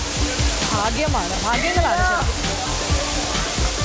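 Sirimane Waterfalls near Sringeri, a steady broadband rush of falling water close by, with people talking over the roar.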